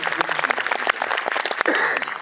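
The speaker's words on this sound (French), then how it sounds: "on peut applaudir les gens de la protection civile" An audience claps for civil protection workers at a film presentation, a busy, crackling patter of many hands that runs steadily throughout, fairly close, with faint voices mixed in.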